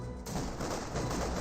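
Vickers and MG machine guns firing across a Company of Heroes 2 battlefield, a dense continuous rattle of automatic fire that is loud and steady throughout, with no talking.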